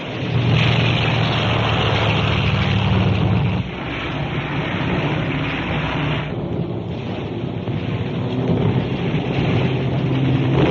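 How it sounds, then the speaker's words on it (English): A catapult-launched bomber plane roars off a warship, a loud, sustained propeller and engine rush that dips briefly and then carries on, with no voices over it. "Catapult plane being launched."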